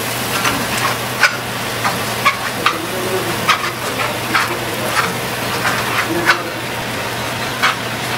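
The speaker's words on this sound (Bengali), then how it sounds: "ভালো করে মশলাটাকে কষানো হবে।" Spice paste of chili powder, ground coriander and cumin, and salt is stirred and sautéed in a pan, with a soft sizzle under repeated sharp scrapes and taps of a spatula against the pan.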